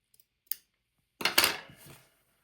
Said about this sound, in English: Let me cut that off and I think I will be good to go.